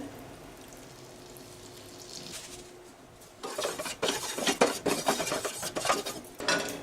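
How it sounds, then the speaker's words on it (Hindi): Oil and butter hit a hot pan over a low flame while making an eggless veg bread omelette, starting as faint kitchen clatter and then turning into a louder, steady crackling sizzle. "पैन को हमने यहाँ पे गरम कर लिया है लो फ्लेम पे। अब हम इसमें डालेंगे 1 छोटा चम्मच तेल और डालेंगे थोड़ा सा बटर।"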